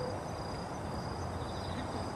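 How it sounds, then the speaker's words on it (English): Crickets and cicadas chirp outdoors near water in Tokyo, a thin steady high trill with a continuous buzzing drone underneath, quiet and distant with no talk. "Crickets and cicadas out there chirping."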